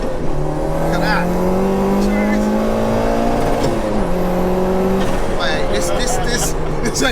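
A turbocharged 2.1-litre stroker Peugeot 205 GTI making 315 bhp accelerates hard, its engine note loud and close, climbing steeply through the revs with brief gear-change dips before surging again.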